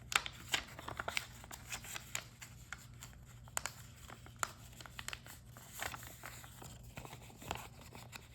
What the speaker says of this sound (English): we're going to mount and fold along this crease, like this, and valley fold along these two creases